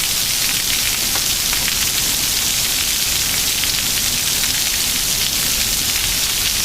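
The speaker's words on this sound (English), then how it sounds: "Hail is starting to fall now." Quarter-size hail pelting down during a derecho storm in St. Louis, a dense, steady patter of many small impacts over a constant rushing wash, close and loud throughout with no talking.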